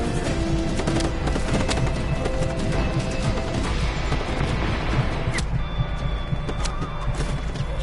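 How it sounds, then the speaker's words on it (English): Heavy tank artillery fire and explosions in the open-world game Just Cause 3, a dense, loud barrage of blasts and crashing impacts that continues throughout. "who else is shooting at me with tank artillery?"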